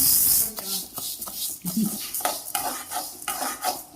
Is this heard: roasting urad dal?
yes